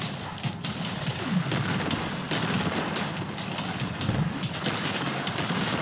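Frag grenade blasts and gunfire from the video game Killing Floor in objective mode form a continuous barrage of rapid shots and dull booms, fairly loud with no clear talk.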